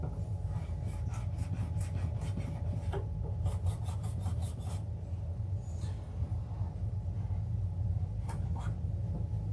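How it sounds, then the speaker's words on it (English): A metal model railway rail is filed by hand, making quiet, close rasping strokes that come in quick rhythmic bursts separated by short pauses. "Sorry if that noise bothers anybody, by the way. I'm just filing the rail"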